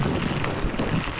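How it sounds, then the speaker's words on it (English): Strong gusting wind and heavy rain roar steadily during Hurricane Harvey in Victoria, Texas, a dense broadband rush with low rumbling buffets, no voices. "The winds picking up dramatically as well as the rain"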